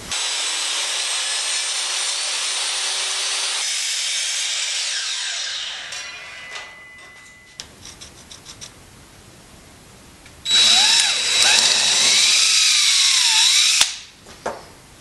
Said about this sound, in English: I'm going to cut a piece of wood to fit down through here